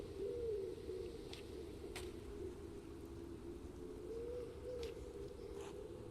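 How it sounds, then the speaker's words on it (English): Pigeons or doves cooing in a video game, a low soft repeated coo drifting through the scene, with a few faint clicks over a steady ambient background. "Birds."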